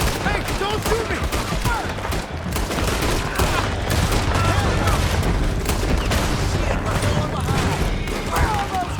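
Dense, rapid gunfire from a Red Dead Redemption shootout, with overlapping shots and bursts filling the whole stretch at a steady loud level, and voices shouting underneath.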